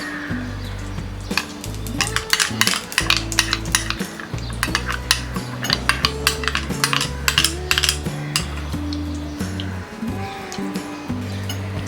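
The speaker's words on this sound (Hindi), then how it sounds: "पैन में डालेंगे ये घी" Ghee (clarified butter) goes into a pan on a gas stove, with repeated metallic clinks and scrapes of a utensil against the pan in an uneven rhythm, close and fairly loud, over a low steady hum.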